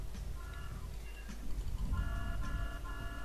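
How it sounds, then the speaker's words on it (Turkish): Repeated electronic car horn honks in the video game GTA 3 sound over a low engine rumble, several short toots in quick succession, fairly loud and close. "Öttürme lan kornayı."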